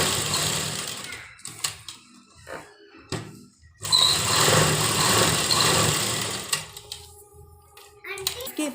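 A sewing machine double-stitches along the lower side of a pocket on a lined trouser, whirring in short and longer bursts with handling noise, and a voice heard briefly in between.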